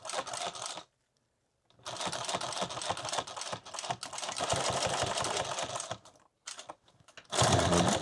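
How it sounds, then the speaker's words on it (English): A sewing machine stitches a Leatherman EDC pouch in rapid mechanical bursts, running in loud chattering stretches broken by brief pauses and a short restart near the end. "I'm going to sew this all the way to the end"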